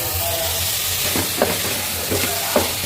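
Cut carrot, potato and brinjal are added to a pot of sizzling sambar and rice, giving a few soft stirring thumps over a steady loud frying hiss.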